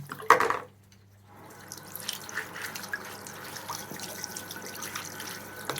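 Bean sprouts rinsed with tap water in a kitchen, a short splash of running water followed by soft trickling and dripping, close and fairly quiet.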